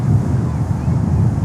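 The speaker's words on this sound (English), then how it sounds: "there's quite some wind. Quite some gusts." Strong, gusty wind buffets the microphone at Miami airport, a loud low rumbling roar that surges and eases throughout with no pause.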